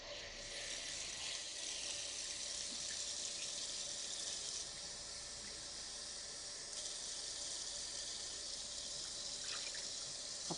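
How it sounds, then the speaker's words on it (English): Water is poured into a bread mixing bowl for homemade bread dough, a steady, unbroken splashing stream that lasts the whole time with no talking. "I put 2 cups of water."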